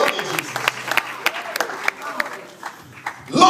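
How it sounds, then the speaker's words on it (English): A church congregation clapping hands during a sermon, scattered applause rising and falling under a preacher's loud, excited voice and crowd noise. "Clap your hands on that word."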